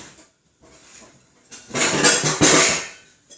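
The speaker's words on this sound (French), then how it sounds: "je prends une cuillère et je mélange tout" A metal spoon stirring and mixing fruit salad of banana, mango and kiwi in a bowl, giving close, clinking and scraping sounds that grow louder and busier midway, with no talking.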